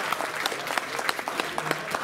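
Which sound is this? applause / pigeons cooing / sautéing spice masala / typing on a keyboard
applause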